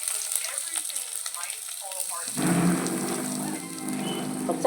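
Sliced onions dropped into hot coconut oil in a pan, a quieter stretch giving way to a sudden loud hiss and sizzle that continues steadily and close, with faint voices underneath.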